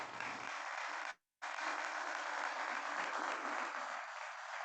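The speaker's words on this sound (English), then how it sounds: "Let's give them a round of applause," An audience at a university symposium faculty research panel claps steadily in a dense, even burst, briefly cut out to silence partway through before resuming at full level until the end.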